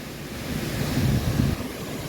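A steady, full rushing roar of Chilseon Falls in Jirisan's Chilseon Valley in autumn, pouring nearby, a dense wash of water noise with no voices.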